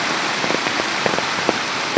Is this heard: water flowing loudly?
yes